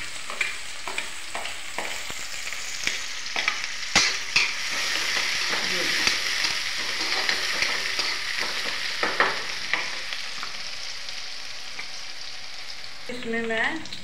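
Onion frying in a pan while making a vegetable dish, with a steady hissing sizzle and repeated scraping and tapping of a spoon throughout, a brief shift in sound near the end.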